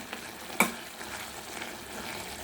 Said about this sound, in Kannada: ನೀವು ನೋಡಿದೆ ಇಷ್ಟು ತುಂಬ ಚೆನ್ನಾಗಿ ಕುದೀತಾ ಇದೆ